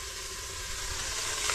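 Garlic, onion and ginger sauté in hot oil, a dense, steady sizzle heard close up and alone for a brief moment.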